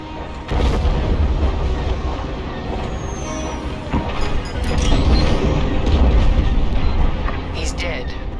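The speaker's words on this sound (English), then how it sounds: "The frigate is about to explode." A frigate blows apart in the Star Wars Squadrons space combat game, a loud, sustained rumbling boom that swells and rolls on for several seconds, with layered crackling debris and a voice speaking over part of it.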